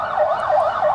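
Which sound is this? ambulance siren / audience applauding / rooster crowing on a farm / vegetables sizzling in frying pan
ambulance siren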